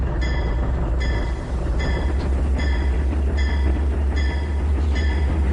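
A locomotive in the train simulator Trainz 2019 reverses into a yard, with a steady low engine rumble and rhythmic clicking wheel beats repeating about once a second, loud and continuous.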